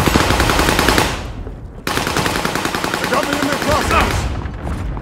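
Sustained heavy automatic gunfire from Call of Duty Modern Warfare (2019), dense rapid bursts of machine-gun fire filling the whole stretch with a brief break partway through, loud and close.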